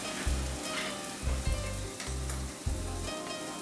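Yogurt blended with cashew paste goes into a hot pan of curry leaves and spices for achari aloo, a steady sizzle with short bursts of louder frying and scraping as it is added and mixed, close and without talk.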